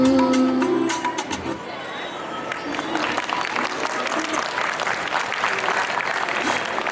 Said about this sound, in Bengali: হাততালি কিন্তু আরেকটু জোরে হওয়া দরকার